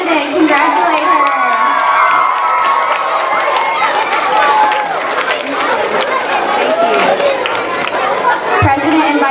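Children's crowd at a second-grade class president inauguration cheers and shouts for the newly sworn-in president, a dense, loud mix of high young voices and chatter throughout.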